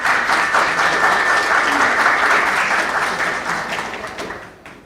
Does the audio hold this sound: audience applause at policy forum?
yes